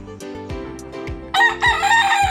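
A rooster crows loudly and close by among clucking chickens in a farmyard, a single drawn-out call rising over the short low clucks, with no talk.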